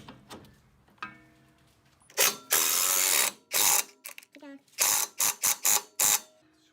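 A ratchet wrench clicks in bursts while tightening a sway bar end link on a car's front suspension, loud and close with irregular pauses between the ratcheting runs.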